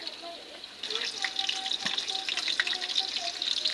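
Whole cumin seeds sizzle in hot oil in a home kitchen pan, a steady crackling hiss that starts up loudly after a quiet moment and continues with scattered pops.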